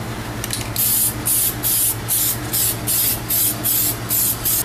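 Spray gun laying gloss coats over gunmetal gray car wheels: a steady background hum with about eight evenly spaced bursts of loud hissing spray, each lasting around a third of a second, close and with no talking.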